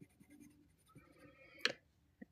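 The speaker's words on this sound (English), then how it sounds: "I'm going to fill that in a little bit darker with this pencil" A pencil shades darker areas on a watercolor hymnal page, producing soft, faint scratchy strokes with a sharper tap partway through and another small tap at the end.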